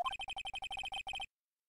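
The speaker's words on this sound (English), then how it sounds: "I heard a phone ring just now. One of those newfangled ringtones." A phone ringtone in the Phoenix Wright: Ace Attorney game plays as a rapid electronic trill of about a dozen even, beeping pulses lasting just over a second, then cuts off to silence.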